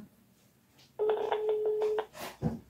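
Phone dialing tones: a faint short tone, then a steady electronic tone lasting about a second with rapid pulses over it, followed by a brief voice or noise.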